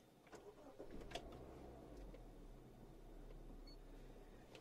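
A Toyota Corolla or Honda Civic engine cranks and catches, settling into a steady low idle rumble inside the car, with a few faint clicks and no talking.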